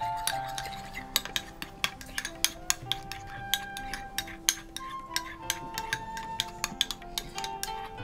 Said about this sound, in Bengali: একটু ভালো করে মিশিয়ে নিতে হবে।